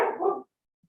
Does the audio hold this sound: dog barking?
yes